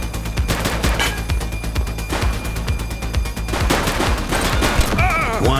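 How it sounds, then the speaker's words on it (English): Gunfire in the police video game The Precinct during a shootout, with rapid repeated shots in loud, dense bursts that run throughout, plus a brief voice near the end. "Shots fired!"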